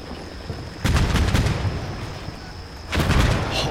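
Tank gunfire in a combat video game: two heavy booming blasts a couple of seconds apart, each with a rumbling tail, over a constant background hum.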